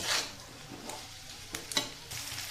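New potatoes with salt being stirred in a pan, with faint sizzling under a few soft spatula scrapes and taps; no talking.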